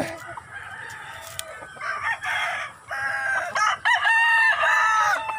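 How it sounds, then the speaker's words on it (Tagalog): Chickens in a backyard poultry pen cluck, then one rooster breaks into a loud crow and more rising calls follow, close and clear over a quiet background with no talking. "Ito isa, mga manok namin guys."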